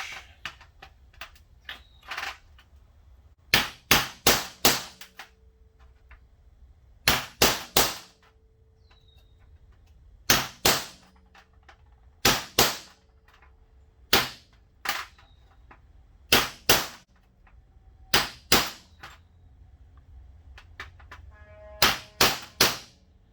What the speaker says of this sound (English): Hammer and punch.